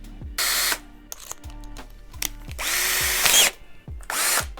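A power drill drives 6.5 cm wood screws into a wooden bar, several loud whirring bursts separated by short pauses and clicks, close and without talk.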